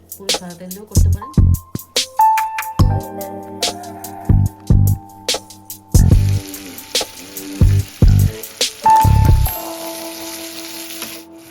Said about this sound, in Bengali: এবার বেরেস্তাটা ভাজা হয়ে থাক